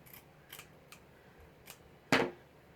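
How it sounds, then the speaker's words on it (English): Scissors snip through paper cutting a circle for a fall scarecrow doorknob hanger, a few soft close cuts followed by one louder crisp snip, with no talking. "I'm going to cut up towards the center."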